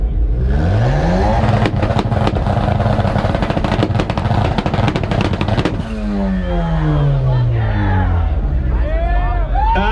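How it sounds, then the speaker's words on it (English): A car engine revs hard at a two-step competition, with a loud sustained roar and sharp popping bursts, then falling and rising pitch sweeps as the revs change, set against crowd noise and talk. "we're gonna have you rev up"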